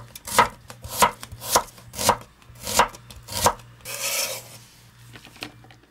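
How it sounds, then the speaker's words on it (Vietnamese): Shallots are sliced thinly with a knife on a board, six crisp, evenly spaced cuts close by, followed by a brief scraping sweep, with no talk. "sắc mỏng ra."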